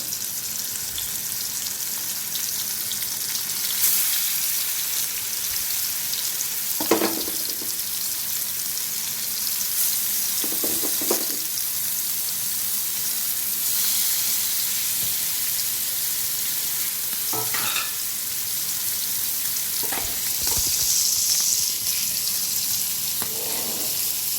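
Semolina-coated dhonde fish frying in a pan, a steady close hiss of sizzling oil throughout, with occasional clinks and stirring knocks from handling the pieces.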